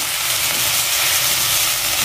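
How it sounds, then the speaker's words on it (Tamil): Mint leaves sautéing in a pan for mint chutney make a loud, steady, unbroken hiss of frying, close and continuous with no talking. "இப்போ புதினா வதக்க"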